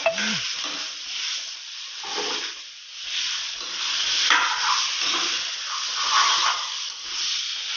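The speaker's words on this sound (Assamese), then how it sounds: "এতিয়া মাংসখিনি দি দিম ইয়াতে।" Chicken meat frying with onions in a pan for an Assamese-style village recipe, a loud continuous hissing sizzle that swells and ebbs as the pieces are stirred, close up and with no speech.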